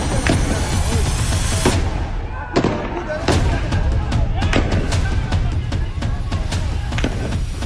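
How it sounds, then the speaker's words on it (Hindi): Security forces firing on street protesters in Kermanshah, Iran: a string of sharp, loud cracks at irregular intervals over a constant roar of crowd and street noise. "ईरानी सुरक्षा बलों ने ताबड़तोड़ गोलियां चला दी"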